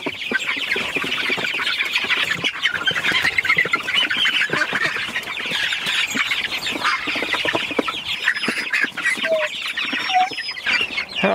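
A dense flock of young chicks squawks and clucks nonstop as they are shifted into a new chicken tractor, a loud, close, busy clamour with no talking.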